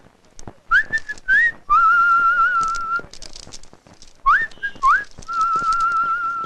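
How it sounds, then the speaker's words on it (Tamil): A man whistles a short melodic tune, with rising slides and long held notes in two phrases separated by a brief gap, clear and close with no speech. "எவ்வளவு ரொமான்டிக்கா விசில் வச்சுட்டு போறான்"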